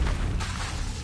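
A Confringo spell explosion in a Hogwarts video game: a single booming, fiery blast that hits hard and rumbles through a brief one-second burst.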